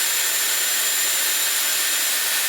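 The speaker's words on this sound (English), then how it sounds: "And then do cold shot." Dyson Airwrap blowing on the cold shot setting, a constant loud, close airy whoosh with a bright hiss and no variation.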